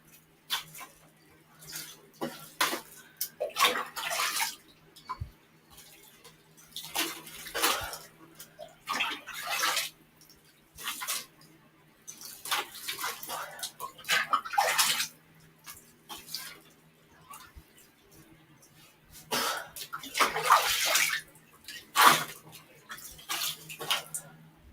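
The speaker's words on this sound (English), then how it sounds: "I'm washing my hair" Hair being washed under running cold water, with irregular bursts of splashing and pouring that swell and fade over a steady low hum, fairly close, no one talking.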